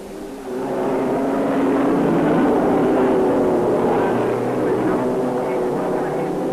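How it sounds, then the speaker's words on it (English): Vintage racing cars at the 1953 Le Mans 24-hour race, a Cunningham leading the pack, make a steady roaring drone that swells and holds loudly throughout. "And here they come, a Cunningham in the lead, the whole pack snarling at his wheels."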